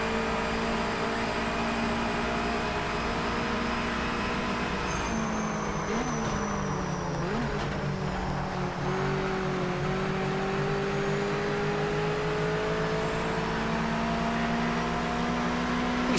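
A Mazda MX-5 engine in the Project Motor Racing video game holds a steady, droning note that dips and climbs midway before settling into a sustained, even hum at constant volume, with no talking.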